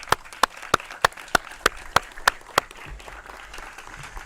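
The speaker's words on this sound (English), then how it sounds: "So round of applause." Slow, evenly spaced claps, about nine sharp hits in a steady rhythm from an outdoor audience at a riverside cleanup celebration, then fading into quiet crowd murmur.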